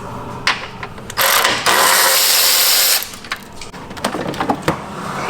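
A ratchet with a 10 mm socket turns bolts on a 2023 Tesla Model Y during a power frunk install. Close, sharp ratcheting bursts come in short spurts, with one longer continuous whirring run in the middle.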